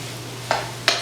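Panko crumbs tipped into a dry pan with cooked sausage make two quick, soft rustling scrapes about a third of a second apart over a quiet background.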